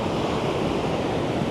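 Ocean waves wash onto the shore near an island as a steady, dense roar of surf, close and continuous with no talk over it.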